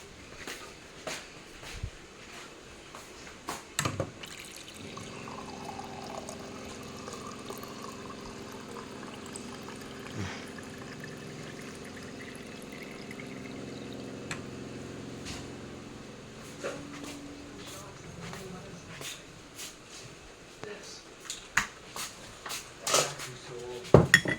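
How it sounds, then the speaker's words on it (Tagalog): Water being fetched and poured at home, a soft, continuous pour in the middle stretch, framed by sharp clicks and knocks of handling at the start and end. "Kuha na rin ako ng tubig."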